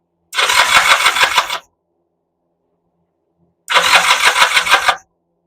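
A 1979 Kawasaki KZ400 motorcycle engine gives two loud, close bursts of starting, each lasting just over a second, separated by about two seconds of silence.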